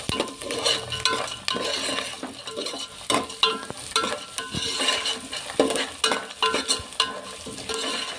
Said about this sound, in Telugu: ఇదంతా ఫ్రై అయ్యేలాగా బాగా కలుపుకోవాలి.